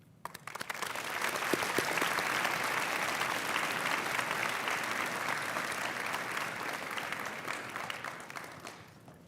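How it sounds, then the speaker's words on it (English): Applause from a school audience welcomes veterans at a Mahomet-Seymour Community School Veterans Day ceremony, rising quickly from a few claps into a broad, sustained roar of many hands that holds evenly before easing slightly. "Please welcome the veterans with your applause on this Veterans Day."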